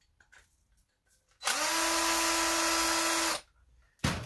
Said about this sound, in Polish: Przecież mam wkrętarkę, końcówka, mogę z tym jechać.